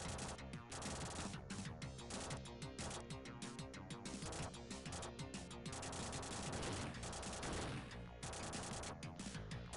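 Continuous rapid gunfire from shooting Terminators in T2: The Arcade Game on Sega Genesis, a dense, loud barrage of repeated shots and crashes filling the whole stretch with no voices.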